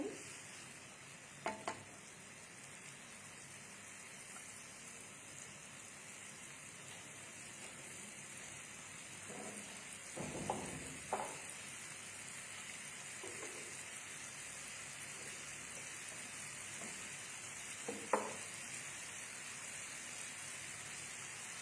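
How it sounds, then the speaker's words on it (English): Mushrooms sauté over a high flame in a pan, giving a steady soft sizzle with occasional brief stirring scrapes and clatters. "We'll saute the mushrooms till they are nice and toasty."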